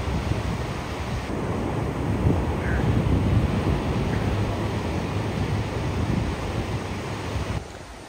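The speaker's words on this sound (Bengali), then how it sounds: "সমুদ্রের যে গর্জন, আনবিলিভেবল" Sea waves roar on Cox's Bazar beach at night, a dense, steady wash of surf with wind buffeting the microphone. The rumble holds at an even level for several seconds, and no one speaks.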